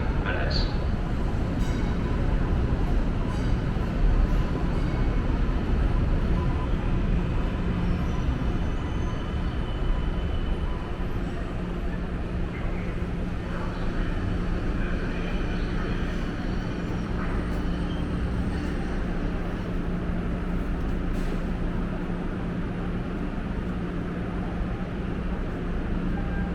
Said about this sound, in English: There's another Riverside train coming.